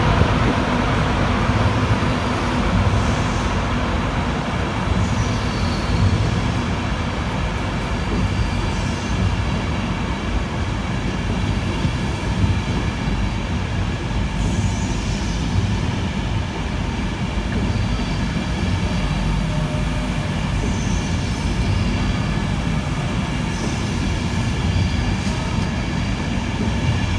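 Train from London King's Cross at Edinburgh Waverley station, a continuous low rumble and hum of the train with station ambience throughout, steady and fairly loud.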